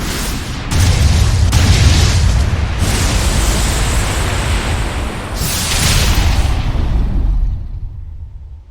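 A video-game cannon fires with a loud, close boom that rolls into a sustained roaring explosion, followed by a second blast swell before the rumble cuts off.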